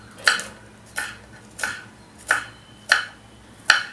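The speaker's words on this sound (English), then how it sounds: "I'm cutting the green chilli." A knife chopping green chilli on a cutting board in a home kitchen, six crisp evenly spaced taps at a steady unhurried rhythm, close and clear against a quiet background.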